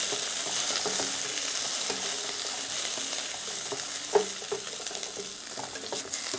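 Tomatoes and a sprig of curry leaves sauté in a pan of oil for a tamarind kuzhambu, giving a steady close sizzle with soft stirring scrapes and a few crackling pops, no voices.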